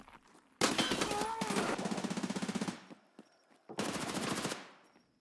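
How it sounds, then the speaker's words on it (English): Sustained automatic gunfire in the video game Escape From Tarkov Arena, a loud rattling burst lasting about two seconds, then a pause, then a second shorter burst, close and dominant. "Like, I know that I'm getting shot at, I think, from the left side here."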